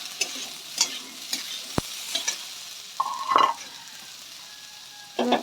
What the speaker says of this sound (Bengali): এবার প্রায় ভাজা হয়ে এসছে।